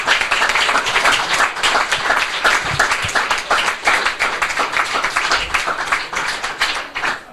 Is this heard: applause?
yes